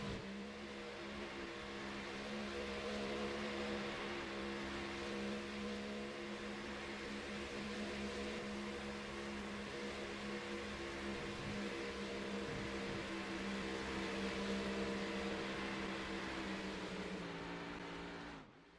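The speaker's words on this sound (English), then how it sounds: "Let's hear these engines roar." Stock car engines roar in a Sunoco Cup Series race at Atlanta, a sustained droning whine of many cars at full throttle, steady and fairly distant, fading at the end, with no talk.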